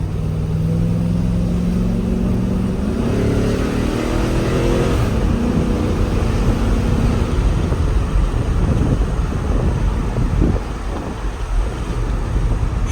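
A 2003 Chevy Silverado truck with a 6.0L engine accelerating on a night drive, a rising engine pull that swells and fades into road and wind roar, loud and close, with no talking.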